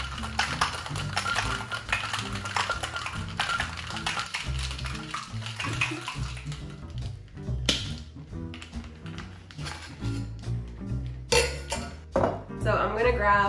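A cocktail shaker full of ice is shaken for a watermelon Jolly Rancher cocktail, giving a steady rapid rattle of close, hard ice hits for several seconds, then sparser knocks and clinks near the end.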